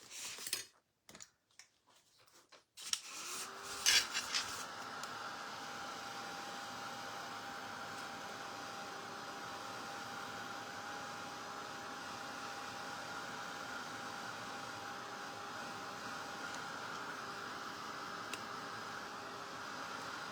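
A hair dryer drying paint on a painted hat, first a few clicks and bumps, then a steady, even blowing whir that runs on for more than fifteen seconds at moderate volume.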